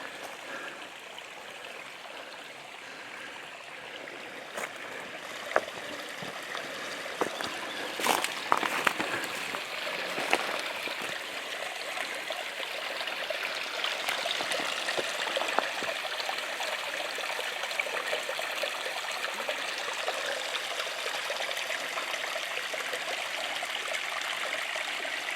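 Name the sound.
waterfall and stream flowing in canyon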